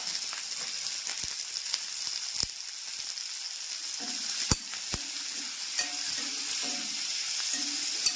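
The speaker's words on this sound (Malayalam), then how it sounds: "സവാളയും പച്ചമുളകും ഇട്ട് കൊടുക്കുവാണ്." Sliced onions and green chillies fry in a pan for a papaya curry, giving a steady close sizzle with occasional sharp taps and scrapes of a spoon stirring, and no voices.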